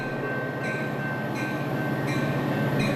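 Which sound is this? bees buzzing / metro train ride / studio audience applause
metro train ride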